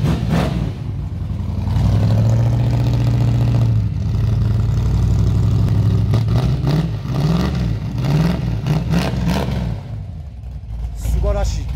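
A classic Nissan 240Z engine idles loudly and close, then revs up and down in repeated rises, with people talking over it.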